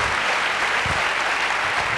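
Loud, dense applause from a training seminar audience, continuous clapping filling the whole moment without a break.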